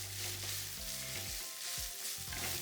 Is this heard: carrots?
yes